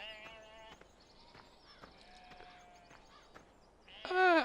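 Sheep bleat in a farming video game, with several short bleats scattered over a faint steady background and a louder, closer bleat at the end.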